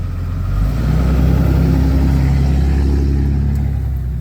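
A 2019 Chevrolet Tahoe fires up by remote start, its engine catching after a brief quiet moment and settling into a loud, steady, close-up run with no talking.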